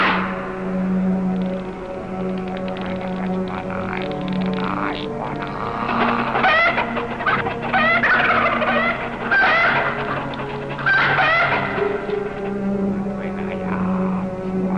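Chickens cluck and squawk repeatedly in loud bursts over a steady electronic hum in the video game Centipede Horror 3, sounding close and game-like.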